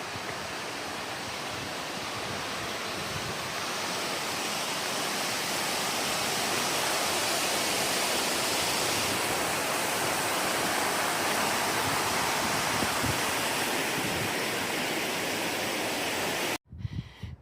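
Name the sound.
waterfall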